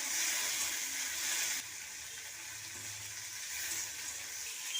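Shrimp dropped into hot oil with green chilli, garlic and diced onion, giving a steady, close hiss of frying that shifts partway through and carries on without any talk.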